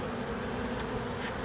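A swarm of gentle honey bees makes a dense, continuous buzzing drone, close and steady throughout with no pauses.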